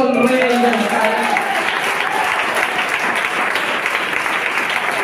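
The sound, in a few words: applause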